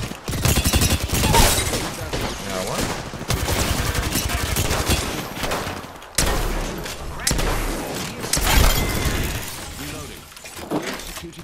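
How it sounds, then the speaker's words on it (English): Smart bullet weapon firing in a ballistic video game, loud continuous bursts of gunfire and impacts with brief pauses, under a player's voice talking. "Firing a smart bullet. Smart bullet landed."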